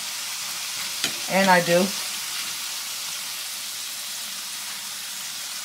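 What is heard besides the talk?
shaking French fries in hot frying oil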